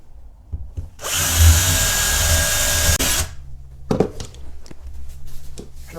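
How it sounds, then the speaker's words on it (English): A loud, steady power drill whirs for about two seconds drilling through a skirting board into a stud wall, then stops, followed by scattered clunks and knocks of handling nearby. "Drill through the skirting board"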